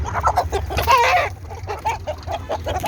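Chickens and roosters cluck close by at a poultry market, clucks and squawks overlapping with brief throaty calls throughout, without any clear talking.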